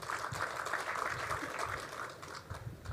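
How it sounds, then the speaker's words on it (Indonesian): Audience applause at an Indonesian press event: a steady, dense patter of many hands clapping throughout, moderately distant and fairly even in loudness. "Kok tepuk tangan?"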